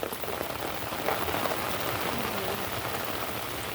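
Heavy monsoon rain pours down steadily at Devgad harbour, a dense, even hiss of drops striking surfaces that stays loud and close throughout, with no voices.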